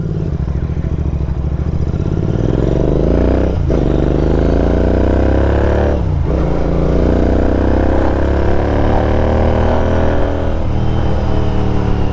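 A Royal Enfield Continental GT motorcycle pulls away slowly, its loud steady engine note rising through gentle throttle with brief dips around gear changes, close and continuous throughout.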